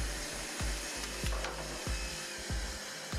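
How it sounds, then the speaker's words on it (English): A track saw rips a straight edge along rough lumber, a loud, continuous broadband cutting roar with repeated low thumps as the blade feeds through the wood. "ripped a straight line on one side of the piece with the track saw"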